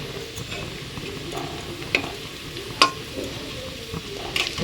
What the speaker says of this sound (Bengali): তো ডিমটা আলুটা ভাজা হয়ে গেছে এখানে, এবার ম্যাগিটা দিয়ে দেবো